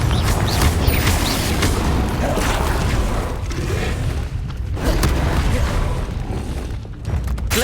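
A Confringo fire-spell explosion in the video game Hogwarts Legacy, heard as loud, continuous rumbling booms and crackling blasts layered densely through the whole stretch, with no voices.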